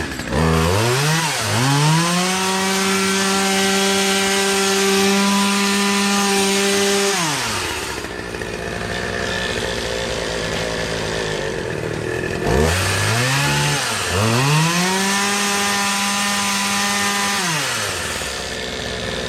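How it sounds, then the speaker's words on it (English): A Poulan 2250 Woodman 18-inch 36cc gas chainsaw revving up to a steady high whine, dropping to a rough idle, then revving up again, loud and close. "Nice chainsaw."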